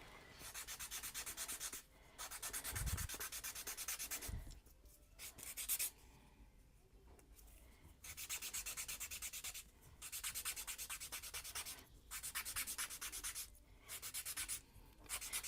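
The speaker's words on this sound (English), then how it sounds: "I'm going to clean it because it's gotten dirty, using the sandpaper to clean it" Sandpaper rubbed against a paper blending stump to clean off graphite dust over a garbage bin, a steady close scratchy rasp in repeated bursts of a couple of seconds with brief pauses, no talking.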